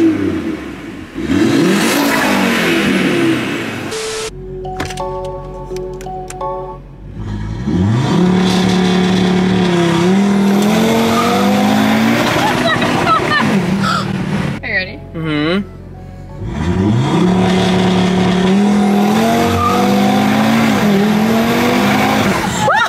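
An Audi TT RS with a stage 2 tune revving hard and accelerating in repeated loud, rising engine pulls with gear changes and a brief pause between, close up inside the car, with excited voices and shouts over it.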